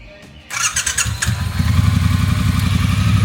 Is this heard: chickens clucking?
no